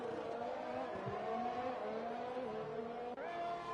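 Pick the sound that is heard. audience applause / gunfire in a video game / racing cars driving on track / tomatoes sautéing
racing cars driving on track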